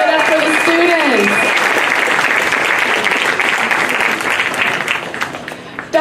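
An audience at an International Jazz Day concert claps and applauds for student performers, loud sustained clapping that slowly thins out, with a voice speaking over the start.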